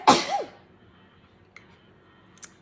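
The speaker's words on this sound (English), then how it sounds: "Oh, I gotta sneeze." A single sharp sneeze bursts out at close range during a makeup application, followed by near silence and a couple of faint small noises.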